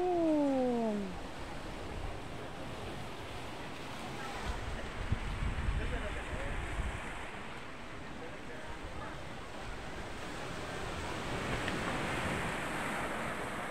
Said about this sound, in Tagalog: Lakas ng alon, hinampas si kuya